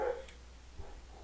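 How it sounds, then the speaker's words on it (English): Pet dogs barking indoors during a card game session, a brief burst at the start followed by faint, scattered yips and a muffled thump, all fairly distant. "These dogs need to shut up now."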